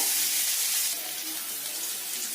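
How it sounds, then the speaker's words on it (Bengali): Cut potatoes frying in hot oil while cooking, a steady loud hiss and sizzle with no pauses, no talking. "আলুগুলোকে ভালো করে লাল লাল করে ভেজে নিতে হবে"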